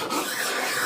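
A chisel is rubbed across a sharpening stone in a figure-of-eight motion, making a close, continuous gritty rasp with a slight swell and fade in under a second.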